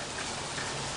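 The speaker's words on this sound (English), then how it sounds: "Rainy day here today in Houston." Steady rain pours down on a stormy day in Houston, a dense, even wash of droplets hissing continuously with no pauses.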